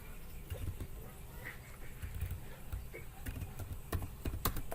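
Keys tapped on a computer keyboard in a series of light, scattered clicks over a low background hum, fairly faint and close, with no speech over it.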